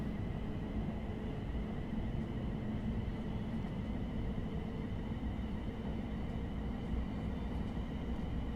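A Class 700 electric train accelerates at full power in Train Sim World 3, giving a steady, even rumble with a low traction hum that holds without a break and no talk.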